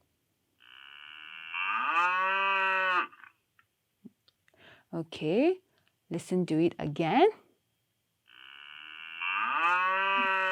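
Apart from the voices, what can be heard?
cow mooing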